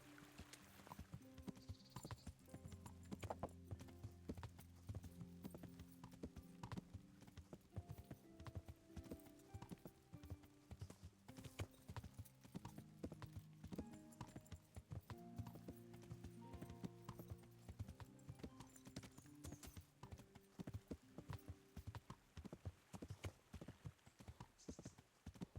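Horse hooves clip-clop at a steady trotting rhythm in the video game Kingdom Come: Deliverance, close and clear beneath continuous game music.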